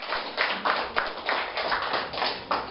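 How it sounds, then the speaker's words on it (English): A small group claps for a school class debate team, a thin, uneven patter of hand claps with a few sharper taps, moderately close and steady throughout, with no voices over it. "Let's give them a round of applause"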